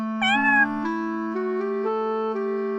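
A cat lets out one short, clear meow near the start, followed by a sustained, evenly stepping tonal drone.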